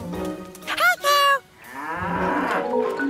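A cartoon cow moos once, a loud, rising and falling bellow in a children's animated show, with a softer breathy animal sound trailing after it.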